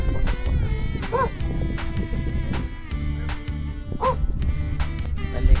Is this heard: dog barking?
yes